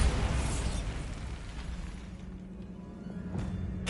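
A Bombarda spell explosion in the video game Hogwarts Legacy: a broad blast at the start that slowly decays into a rumbling tail, with a couple of smaller pops and crackles following later, moderately loud with no voices.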